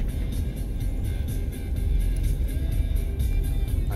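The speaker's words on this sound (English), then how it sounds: "driving on the ferry" A car drives onto a ferry bound for North Carolina, producing a close, steady engine rumble and road noise with a slight swell midway through.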